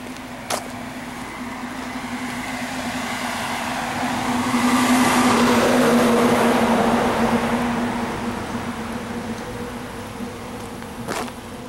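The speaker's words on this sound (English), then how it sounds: "We just heard this car come over there." Small Honda Fit driving past, a soft engine and tire rush that builds to a peak midway and fades again, under a steady background hum with a couple of sharp clicks.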